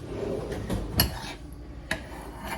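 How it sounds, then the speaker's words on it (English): Eggs being stirred in a bowl with a utensil, a few sharp clinks and taps against the side at irregular intervals, close and clear with no talk. "And we're going to take and we're going to stir these eggs."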